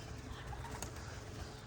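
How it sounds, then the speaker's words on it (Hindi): Pet pigeons let out of their coop give soft, low cooing, faint and steady against quiet background noise for under two seconds. "हमने अपने कबूतर बाहर निकाल दिए हैं"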